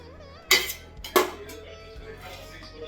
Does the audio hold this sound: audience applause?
no